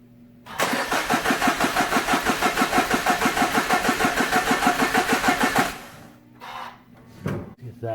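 A car engine cranks in a steady rapid rhythm for about five seconds without catching, then the cranking stops, leaving quiet shuffling afterward; loud and close, with no talk over it.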